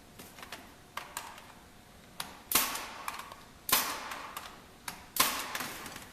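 Pneumatic brad nailer firing 1.5-inch brads into wood: four sharp, loud bursts at roughly even spacing, with lighter clicks and taps of handling in between.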